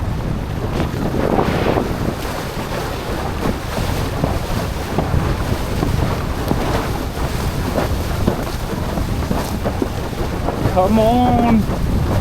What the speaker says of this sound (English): Heavy wind.